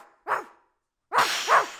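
A female dog barks three times, one sharp bark followed after a pause by two quick barks in succession, close and fairly loud with nothing else heard.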